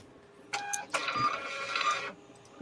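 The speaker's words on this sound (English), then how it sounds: "I hear printer." An old printer attached to a vintage Macintosh SE/30 under repair runs a short print job, with a brief mechanical burst followed by a steady whirring, buzzing print pass of about a second, close and fairly loud.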